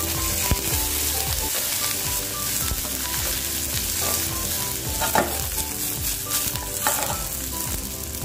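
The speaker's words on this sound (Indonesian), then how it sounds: "Oke teman-teman, kita akan masukkan serainya." Lemongrass frying with browned onions in a pan, a strong continuous sizzle with frequent spatula scrapes and knocks against the pan, no talking.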